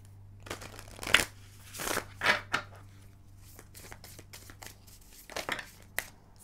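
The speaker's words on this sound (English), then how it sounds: "I'm going to start shuffling here." Tarot cards being shuffled by hand, close and quiet: several crisp riffling bursts and soft slaps separated by pauses in a still room.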